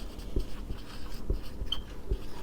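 Pen strokes on paper or board during a physics lecture, a few soft scratchy taps at a steady rhythm, close and quiet, with no one speaking.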